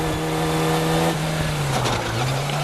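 Historic Formula Ford 2000 race cars at Croft circuit, heard from onboard: a loud, close engine drone holds a steady pitch, then dips slightly, with a faint squeal of tires.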